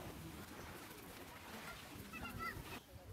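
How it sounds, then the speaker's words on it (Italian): A pigeon gives soft, faint coos at a beach near Formia, low and intermittent under a steady wash of seaside background noise. "Il piccione, il piccione."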